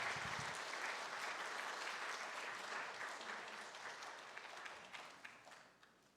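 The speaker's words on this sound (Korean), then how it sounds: "큰 박수로 축하해 주시기 바랍니다" A church congregation applauds a baptism at a Sunday service, a steady, fairly quiet roomful of clapping that gradually thins and fades toward the end, with a few sharper individual claps near the close.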